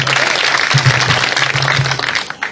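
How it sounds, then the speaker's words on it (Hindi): Loud, sustained applause from a crowd at an outdoor public rally in a village, steady clapping filling the whole stretch with a low hum underneath. "देवेंद्र कादियान जी को जोरदार तालियों से अभिनंदन और स्वागत"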